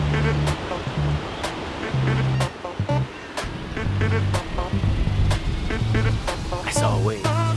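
Gulf Coast ocean waves wash in at a county pier, a steady rushing surf that holds for the whole stretch, mixed with other low tonal sounds in the background.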